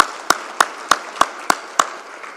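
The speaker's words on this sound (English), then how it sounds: "Applause front." Audience applause at a conference, heard as a short run of sharp, evenly spaced handclaps, about six crisp claps in a steady rhythm that fades out at the end.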